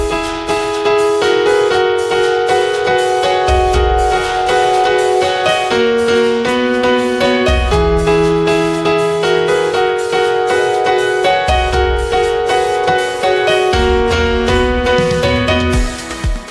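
Both hands on piano play through a song with steady chords and a low bass line underneath, full and continuous, close and fairly loud, with no voice over it.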